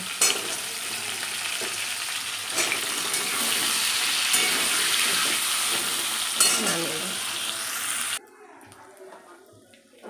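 Pumpkin pieces fry in hot oil with a loud, steady sizzle and some stirring, then the sound cuts off abruptly to near quiet for the last couple of seconds.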